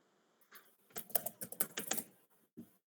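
Someone types Java code on a computer keyboard in a quiet room, a close, brisk burst of clicking keystrokes that starts softly, thickens into a quick run, and ends with one final isolated tap.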